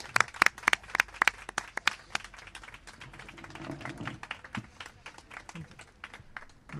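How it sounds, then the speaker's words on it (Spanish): An audience claps at a live Spanish radio show recording, with a burst of sharp, dense applause at the start that thins into scattered claps and light crowd murmur toward the end. "la gente está sacando las manos de los bolsillos para aplaudir"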